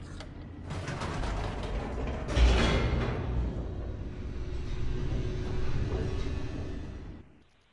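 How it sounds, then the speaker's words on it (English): In The Stanley Parable, an elevator races downward with a sustained mechanical rumble, grinding creaks and rattling machinery. A heavier clunk comes partway through, then the noise fades out at the end. "The elevator raced downward, plummeting towards an unknown fate."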